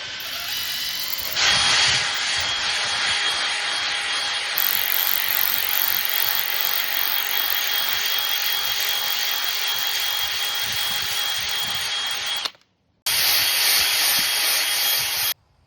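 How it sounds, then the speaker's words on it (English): A ball hone spins inside rusty, pitted cylinders of a seized engine for a flatfender CJ3B, making a loud, steady, grinding whir that runs about eleven seconds, stops abruptly, then starts up again. "Got a ball hone. Gonna try and clean some of the rust out of these cylinders."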